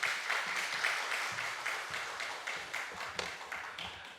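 Church congregation applauding to welcome a pastor to the pulpit at a Wednesday special seminar, a steady wash of moderate clapping that holds for a few seconds and slowly fades.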